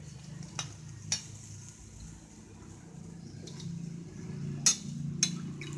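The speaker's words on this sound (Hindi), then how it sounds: "मीडियम फ्लेम पर हमने इसको करारा होने तक सेकना है" Puri for raj kachori frying in oil over a medium flame, giving a steady low bubbling sizzle throughout, broken by a few sharp clicks and taps from a utensil.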